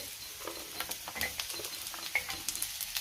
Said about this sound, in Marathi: आता सगळं एकत्र करून घेते आणि त्यातच आपल्याला आलं लसूण घालायचे